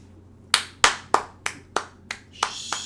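Eight sharp hand claps, dry and close, spaced unevenly about a third of a second apart against a quiet background with a faint low hum.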